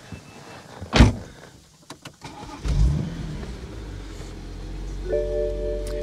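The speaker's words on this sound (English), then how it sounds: "So you have to start the car." A BMW Z4 with an N54 engine starts after a thump and some interior clicks, then settles into a steady, low idle rumble, close by and with no talk.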